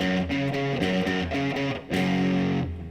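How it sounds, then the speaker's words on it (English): Electric guitar played through a Reggie amp model: loud, distorted, sustained chords ringing with effects, strummed in a steady rhythm with no voices. "The other amp model sound, the Reggie, sounds like this"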